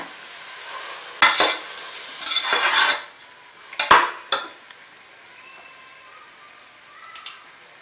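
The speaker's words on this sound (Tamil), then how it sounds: "தயிர் ஆட் பண்ணி நல்லா மிக்ஸ் பண்ணிக்கோங்க" Curd stirred into sautéed mushrooms for biryani, heard as a few brief scraping and clattering bursts of a spoon against the pan, separated by quiet stretches with a faint sizzle underneath.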